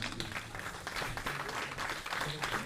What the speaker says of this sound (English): please, a warm round of applause for David Shaler.